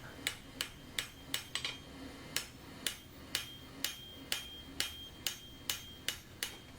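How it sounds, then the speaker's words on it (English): Hot metal scroll being hammered on an anvil block, a steady series of sharp ringing strikes in a regular rhythm, each blow evenly spaced and clear, close and prominent with no talking. "squaring it off on the anvil, well, on the block, tidying it up, just generally sort of thinning things out."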